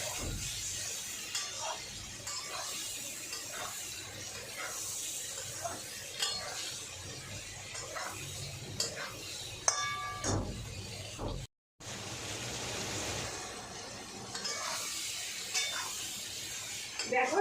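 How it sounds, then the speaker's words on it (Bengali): Vegetables fry in a pan with salt, turmeric and cumin, making a soft, continuous sizzle. Intermittent spatula scrapes and clinks against the pan sound throughout, with one brief dropout near the middle. "এবার এই সবজিগুলোর সঙ্গে এগুলো ভালো করে ভাজা ভাজা করে দিতে"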